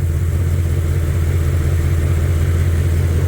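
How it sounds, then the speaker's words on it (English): LS-swapped Plymouth Cuda engine idling roughly with an exhaust leak, a close, steady low rumble with an uneven, chuffing pulse throughout and no talk. "Oh, that exhaust leak is nasty."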